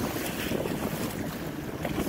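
Fishing boat cruising on Leech Lake, Minnesota, in June: a steady rush of engine and water with heavy wind buffeting the microphone, no voices.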